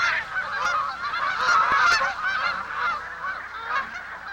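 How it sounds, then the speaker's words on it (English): Geese arriving in spring in Alaska honk repeatedly in a noisy flock, with overlapping calls rising and falling, fairly close and steady throughout. "the first geese arrive"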